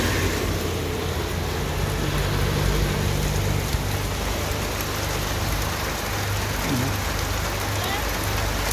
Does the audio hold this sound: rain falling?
yes